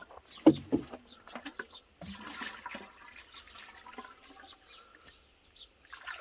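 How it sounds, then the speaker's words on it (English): Liquid fertiliser being poured into a watering can in a garden, a gurgling, splashing fill with a louder burst near the start and birds faintly in the background. "fill up a watering can"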